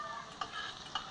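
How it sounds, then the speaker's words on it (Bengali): Potatoes frying in oil with a little turmeric for a Bengali egg and potato curry, a soft continuous sizzle with two brief scraping stirs of a spatula in the pan. "নাড়াচাড়া করে আলু ভালো করে ভেজে নিয়েছি।"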